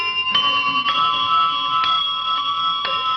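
Bells ring in a 1951 children's television show, struck about five times at an even pace, each chime bright and ringing over a sustained metallic hum with no talking.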